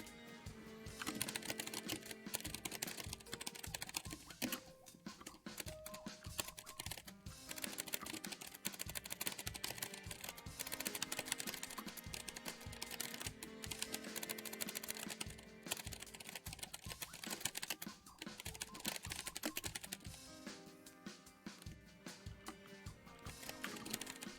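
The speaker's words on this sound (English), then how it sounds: "Let me type this up real quick." Fast, continuous clatter of keys on a computer keyboard, close and alone, with quick bursts and short pauses throughout.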